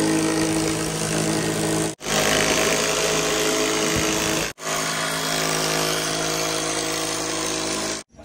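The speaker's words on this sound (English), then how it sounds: "Make sure your hair is not going to get stuck in the saw." A power saw runs loud and steady, cutting in three long bursts with brief stops between them, close by and with no voices.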